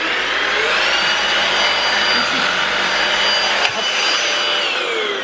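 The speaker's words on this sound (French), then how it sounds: "je viens de passer l'aspirateur dans ma chambre" A household vacuum cleaner with a light on its nozzle runs close and loud, a steady whining roar that holds without a break, with faint talk beneath it.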